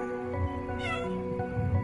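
A cat meows close by indoors, one clear, drawn-out call in the middle of a soft background hum, with faint murmurs around it.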